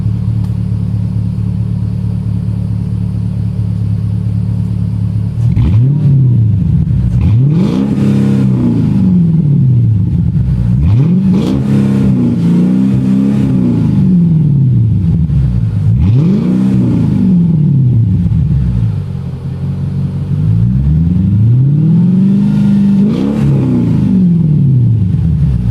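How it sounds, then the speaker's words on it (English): A warmed-up Mercedes S500 engine with a modified exhaust muffler revs hard several times, each rev rising and falling in a loud, close rumble over a steady idle, with a short dip between revs. "I'm gonna go ahead and give you guys some heavy revs on this thing so you can hear how it sounds warmed up and revving."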